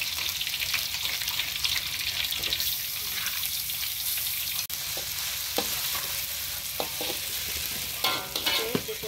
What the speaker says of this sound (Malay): minyak dah panas, kita masukkan bawang, bahan-bahan tadi